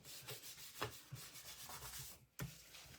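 A paper card panel being rubbed by hand during card making, a steady dry scraping and brushing that runs for a few seconds with a short pause near the end, quiet and close.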